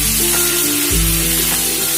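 Onions dropped into hot oil for a fish dish hiss and sizzle loudly and steadily, frying close up with a constant dense crackle and a low stirring rumble underneath, no voices.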